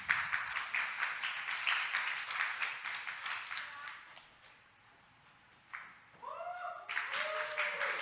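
Audience at a church summer Bible school youth forum applauds with dense clapping for about four seconds, fading into a quiet stretch, then a voice speaks and the clapping swells again briefly.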